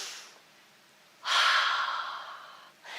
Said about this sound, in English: now take a deep breath because this gets a little complicated